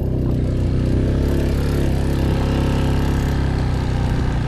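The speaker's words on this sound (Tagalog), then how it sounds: "Naging kulig-lig na tong motor natin." A rattling motorcycle engine runs continuously on a rough, rain-soaked road, a steady close drone with a buzzy, clattering texture and no talk.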